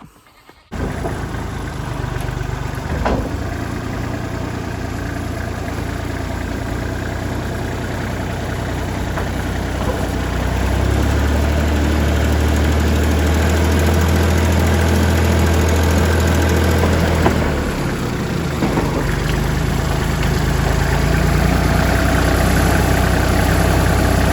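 A tractor engine idles steadily nearby, a low constant rumble that grows slightly louder partway through, with no talking, while hitched to a bush hog.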